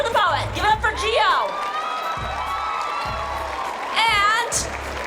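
An audience at a youth poetry slam championship cheers for a poet, with whoops and shouts rising and falling in bursts and a rhythmic low thumping underneath.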